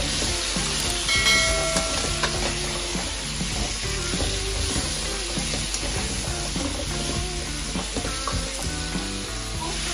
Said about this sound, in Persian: کرفسامو میخوام سرخ کنم